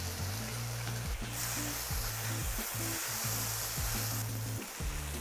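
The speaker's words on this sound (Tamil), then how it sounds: "இப்போ இதில் வந்து நான் தக்காளி ஆட் பண்ண போகிறேன்." Tomatoes go into a pan of sizzling fried onions for prawn pothi soru. A moderate sizzle swells louder for a few seconds, then eases back, with background music underneath.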